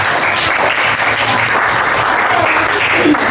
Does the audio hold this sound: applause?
yes